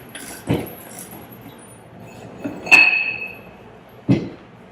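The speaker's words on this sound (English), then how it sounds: "we can go ahead and start taking off the diaphragm assembly" Metal parts of a Wilden metal air-operated diaphragm pump clank and clink as the diaphragm assembly is taken apart, with three separate knocks spaced over a few seconds and a brief ringing metallic tone in the middle.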